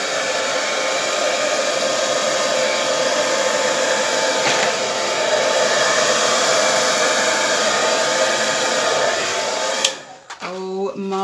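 Steady, loud rush of air from a hair dryer blowing acrylic paint across a Dutch pour on a bronze base, continuous for about ten seconds before cutting off abruptly.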